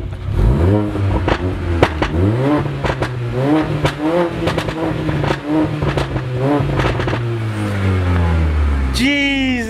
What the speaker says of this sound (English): the Armytrix exhaust is now fucking installed and it's sounding sick